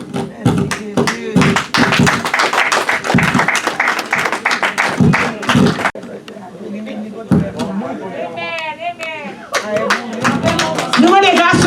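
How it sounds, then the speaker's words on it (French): A church congregation claps hands during a Sunday morning service, loud rhythmic clapping at first, then sparser claps with voices speaking and singing in between. "nous applaudissons à la gloire de Dieu"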